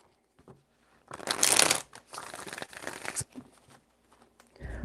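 Tarot cards shuffled by hand in two close, crisp riffling bursts, the first louder, followed by lighter shuffling and a soft thump, with quiet moments between.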